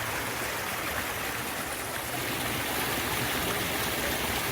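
A stream of water rushes steadily at a highland meadow spot, a loud, dense, unbroken wash of flowing water heard up close, with no voices.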